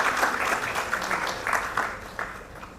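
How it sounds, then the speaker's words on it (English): Conference audience applauding a speaker at a women's data science event in Bengaluru, a few seconds of clapping that starts full and gradually tapers off, with no talk over it. "A big round of applause for Isu, please"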